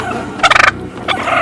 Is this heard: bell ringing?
no